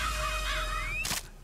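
Crow caws ring out close and clear, a drawn-out call followed by two short harsh caws, alone with no talking.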